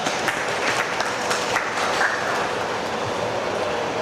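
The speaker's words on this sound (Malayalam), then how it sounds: "അപ്പോൾ അവർക്ക് എല്ലാവർക്കും വേണ്ടി നമുക്ക് കയ്യടി വാസാക്കാം." Applause from the audience at an annual family gathering, a dense, even wash of clapping that lasts the full four seconds at moderate level with no voices.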